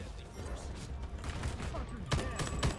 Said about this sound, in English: I'm just gonna pop off with my battle rifle